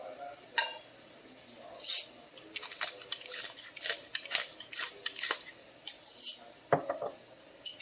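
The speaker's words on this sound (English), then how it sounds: "And now I'm going to mix in salt and pepper." Utensils scrape and clink against a pan while salt and pepper are mixed into stir-fried long-life noodles with bok choy and mushrooms, a string of close, irregular metallic taps and scrapes with a few sharper knocks.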